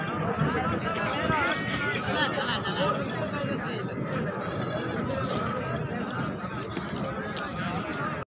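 Goats at a goat market in Khairpur, Pakistan, bleat repeatedly amid a crowded outdoor din of clinking and movement, with someone talking steadily over the scene.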